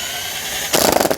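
Power drill spinning a drain auger inside a Jeep TJ frame rail to clear rust, kicking in suddenly with a loud rattling whir after a moment of quiet hum.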